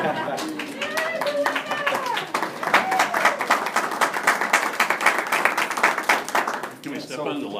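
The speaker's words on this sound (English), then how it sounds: "We're clapping." A group of people claps at a school board of education meeting, brisk uneven applause lasting several seconds, with voices talking over and around it.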